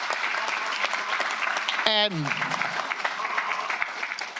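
Scattered applause for first responders in a county board meeting room runs underneath, with someone speaking briefly over it.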